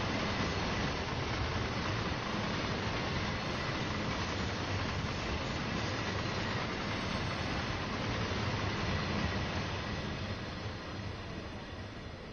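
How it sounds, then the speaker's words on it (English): An empty car transporter freight train passes on the Cologne–Aachen high-speed line in Train Sim World 5, a continuous loud, dense rolling roar that fills the whole stretch and eases slightly toward the end. "Empty car transporter."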